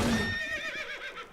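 Horse in the Wurm Unlimited game letting out a loud, wavering whinny that trails off over a second or so, with faint hoof clatter underneath.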